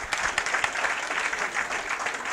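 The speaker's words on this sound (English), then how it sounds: "another just one last round of applause for all the presenters tonight" An audience at the San Diego Inventors Forum 2014 contest gives the presenters a steady round of applause, dense and even from start to finish.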